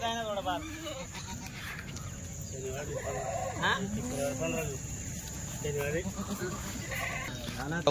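Kathiyawadi goats bleat repeatedly, near and loud, while people talk over them in a noisy outdoor goat trading setting.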